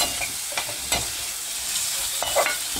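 A spoon stirs cottage cheese into sizzling gravy in a frying pan, giving a steady crackle with soft scraping strokes at irregular intervals, close and with no talking.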